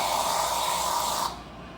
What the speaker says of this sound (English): I'm gonna spray the foam at the bottom of the cup and then add the coffee.